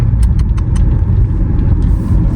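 Inside a Tata Sierra 2025 diesel cruising at 100 km/h on the highway, a steady low road-and-engine rumble fills the cabin, with a few faint clicks and taps near the start and no speech.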